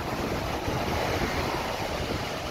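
High, fast-flowing water on the Lower Kern River, running at around 3,000 cubic feet per second, makes a steady, dense roar of rushing current mixed with wind buffeting the microphone, unbroken throughout with no voices.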